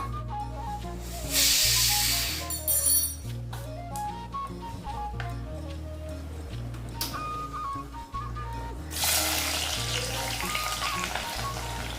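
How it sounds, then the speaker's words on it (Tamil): Mustard seeds and fenugreek spluttering in hot oil, bursts of loud hissing and crackling sizzle that rise and fall over a low steady hum, alongside faint tonal background sounds. "நாம் சேர்த்த கடுகு வெந்தயம் இதெல்லாம் பொரிஞ்ச பிறகு"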